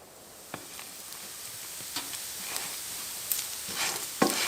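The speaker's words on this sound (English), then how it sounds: "Bacon and hash browns with a bit of cheddar and ketchup" Bacon and hash browns frying in a pan at a cold winter campsite, a steady quiet sizzle with a few soft clicks and scrapes, no talking.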